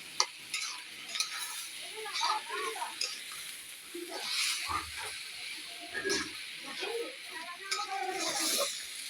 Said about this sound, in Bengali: একে ভালো করে নেড়ে নেব। এতে খিচুড়িটা অনেক স্বাদ হবে।